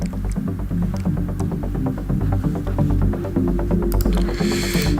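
Thumping kick drum in a trance music production, a steady four-on-the-floor pulse of deep hits repeating evenly under a humming synth bed, loud and close with no voices.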